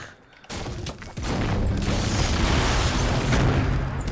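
A grenade blast in Fortnite bursts out after a short quiet, followed by a loud, sustained rumble of explosions and debris that fills the rest of the moment.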